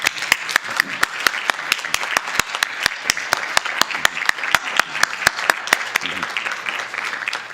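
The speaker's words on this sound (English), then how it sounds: "let's give our concert choir one more round of applause" An audience at a school board meeting applauds the concert choir. Steady clapping from a crowd is cut by a run of loud, evenly spaced sharp claps, and a voice is briefly heard near the end.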